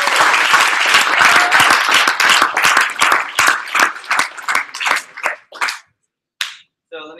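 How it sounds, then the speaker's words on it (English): An audience applauds the districts and branches at a public speaking event, a dense burst of clapping that thins into a few scattered claps, then a brief pause and a last couple of claps. "Can we give our districts and branches a round of applause?"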